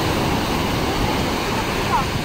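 Continuous roar of large waves crashing just after a typhoon, a broad rushing wash with wind buffeting the microphone, loud and unbroken.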